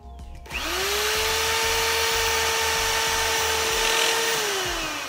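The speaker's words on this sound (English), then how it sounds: "Go ahead and put those screws in." A power drill runs steadily for about four seconds while driving screws into boards of a DIY yard enclosure, starting with a sharp spin-up and winding down at the end, loud and close with no talk over it.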